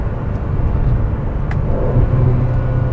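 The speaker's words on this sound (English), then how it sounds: "Wow, so transmission's very quick. So as soon as I'm downshifting" Aston Martin DB12 engine heard from inside the cabin during a downshift: a steady, deep rumbling drone with a slight swell in revs, no speech.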